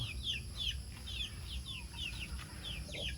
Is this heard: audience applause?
no